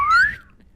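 A voice imitating a slide whistle sound effect, one quick rising whistled glide lasting about a third of a second, loud and close, then fading into quiet.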